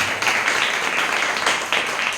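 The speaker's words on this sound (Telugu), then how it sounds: "గట్టిగా చప్పట్లు కొట్టి." A church congregation at a Christian sermon claps loudly in a dense, continuous burst of applause that fills the space throughout.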